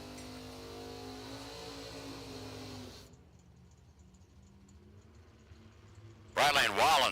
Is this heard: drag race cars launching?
yes